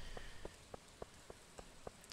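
Rainy-day ambience in the Stardew Valley video game: faint, steady hiss of rain with a run of soft, evenly spaced ticks and taps about every quarter second, with no talking.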